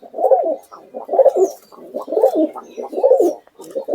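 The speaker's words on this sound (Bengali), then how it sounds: "পায়রাগুলো দেখেন আপনি।" Pure Murshidabadi pigeons with wheat-coloured beaks coo close by in a repeated rhythm of soft, throaty phrases, about five bursts in four seconds, with no talk.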